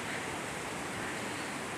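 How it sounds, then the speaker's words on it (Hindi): Rainwater streams flow down from houses into a valley after heavy rain, a continuous broad rushing wash of moderate loudness with no voices. "बहुत खूबसूरत नालों का पानी निकल कर, ये यहाँ से घरों से निकल कर ये फिर जो है ना इसी वादी में आ जाता है।"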